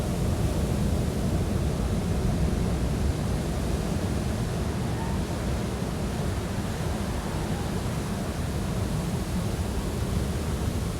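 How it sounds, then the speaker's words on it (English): Ocean waves pound and splash against rocks as a dense, unbroken roar of surf and spray, loud and steady throughout with no distinct breaks between waves. "like waves coming one after the other."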